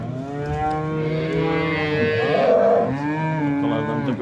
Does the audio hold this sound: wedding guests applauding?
no